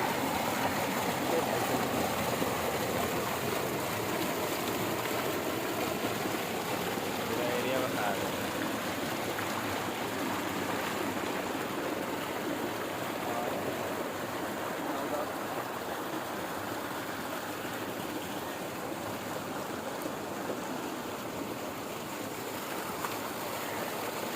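Water gushes steadily from a turbine tube well, making a constant close rushing and splashing roar that holds for the whole stretch without any break.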